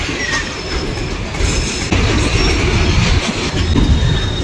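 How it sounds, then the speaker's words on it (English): An EMU local train rolls past at Okhla railway station in Delhi, a steady loud rumble of wheels and rattling coaches with occasional clickety-clack and faint wheel squeal throughout. "So friends, you are seeing this EMU local train."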